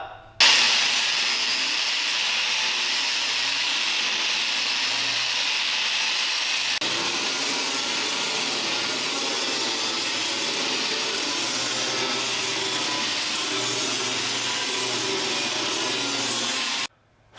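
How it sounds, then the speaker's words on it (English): An angle grinder flattens a weld on a boat transom with a loud, continuous high-pitched whine that holds steady for the whole stretch and stops abruptly at the end. "Flatten the weld out just a little bit"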